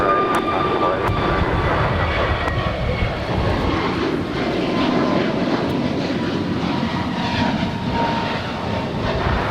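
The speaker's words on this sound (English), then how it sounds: "American Airlines Flight 253 heading to Kahului, an A321neo, just 2 years of age" A two-year-old American Airlines Airbus A321neo airliner roars steadily at Los Angeles International Airport, its loud jet engine noise filling the scene continuously with a broad, rumbling wash that holds nearly constant throughout.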